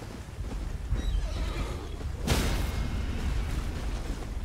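A horse neighs in the Elden Ring Shadow of the Erdtree video game amid combat, a whinny with hoof clip-clops and a sharp impact burst midway, set against rumbling game ambience.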